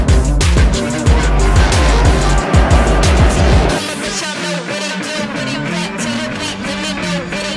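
Endurance race cars at the 11 Hours of Valencia roar past loudly, with a heavy engine rush and tyre squeal that drops abruptly into a thinner, buzzing engine whine from cars further off.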